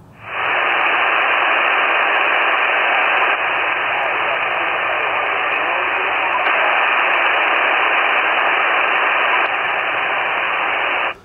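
An amateur radio receiver hisses with a loud, even band of static that holds steady for about ten seconds before cutting off abruptly.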